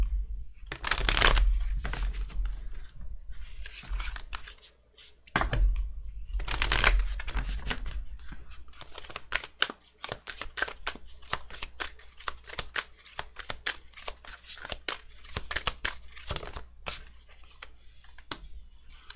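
A Moonology tarot card deck is shuffled up close for a monthly reading, with riffling bursts, quick flutters and crisp card snaps that come in uneven runs. No one speaks during it.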